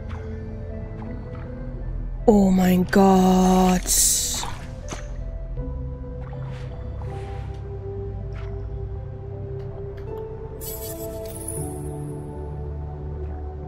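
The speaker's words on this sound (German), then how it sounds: "Ich kann mit ihm im Wasser laufen." A game character wades through water in Worldless, with wet sloshing and dripping splashes standing out in a brief loud burst, then quieter watery drips under ambient music, and a voice speaks briefly.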